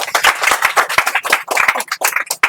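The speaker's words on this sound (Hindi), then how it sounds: "चलिए एक बार ताली बजाइए इनको भी" A small group of students claps in a classroom at a coaching institute in Sheohar, a brisk burst of loud, uneven hand claps in close succession, near and dry, with little else behind them.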